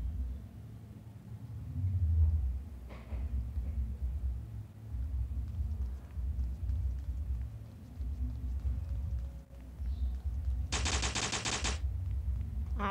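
Gunfire from a new weapon in the mobile shooter game Block Strike: a single loud, rapid automatic burst lasting about a second near the end, over a steady low game rumble.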